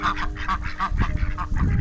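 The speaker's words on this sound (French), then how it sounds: "Les canards, les oies," A flock of geese and ducks honking and quacking in rapid, overlapping bursts, close and loud.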